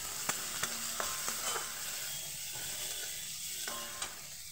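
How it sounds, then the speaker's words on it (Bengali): Thinly sliced onion frying in hot oil with five-spice for a mustard-style fish curry, a steady soft sizzle broken by a few sharp clicks and scrapes of stirring, close and alone with no talk. "ওতেই দিয়ে দেবো পাতলা পাতলা করে একটা পেঁয়াজ কেটে রেখেছি"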